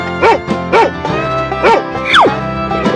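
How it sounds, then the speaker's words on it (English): A dog gives a run of loud, close barks, three or four sharp yips in quick succession, followed by a rising whine-like cry. "Dog."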